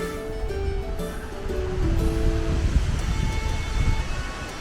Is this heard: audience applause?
no